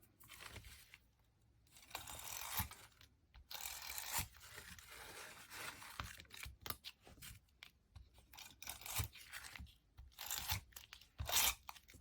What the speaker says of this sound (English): I'll use my tape runner